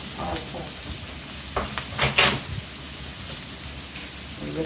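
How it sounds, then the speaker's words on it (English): A spoon stirs flour into a sizzling cabbage roll mixture of vegetables and frankfurters in a pan, with a steady frying hiss and a few brief scraping clinks midway. "We just want to stir."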